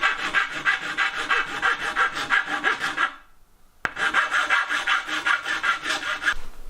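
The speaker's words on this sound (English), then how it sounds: "So you can see I had to do a lot of filing" A hand file rasps back and forth across the wood of a vintage arch door in steady, rhythmic strokes, close and loud, with a brief pause and a knock before the filing resumes.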